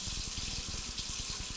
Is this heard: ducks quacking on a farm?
no